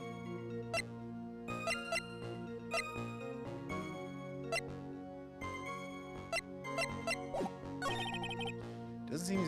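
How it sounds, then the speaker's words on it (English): A bell ringing in the courtroom video game Phoenix Wright: Ace Attorney Trials and Tribulations, bright repeated chimes over sustained game music. "He should have seen Iris ringing the bell?"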